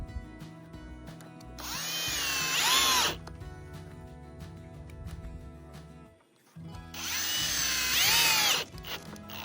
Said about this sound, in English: So I'm going to screw the ends together.